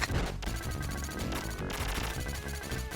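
Dense, continuous gunfire and explosive crashes from the Neo Kappa mini-boss fight in the Contra Hard Corps video game, loud and sustained over busy game music with no talking.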